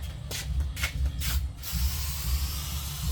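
Orange-yellow paint sprayed onto a VW Baja Bug over red oxide primer: three short hissing bursts in close succession, then a lingering airy hiss over a steady low rumble.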